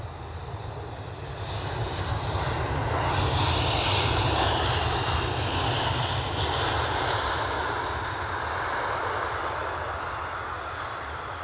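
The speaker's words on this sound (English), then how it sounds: "A320neo." An SAS Airbus A320neo jet arriving from Stockholm at Edinburgh Airport gives a broad engine roar that builds over the first few seconds, peaks, then holds steady and slowly eases, with no voices.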